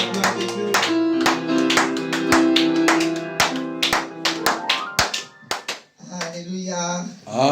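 A church congregation claps in acclaim for God, a steady run of sharp hand claps under sustained musical tones, fading as a voice begins speaking near the end.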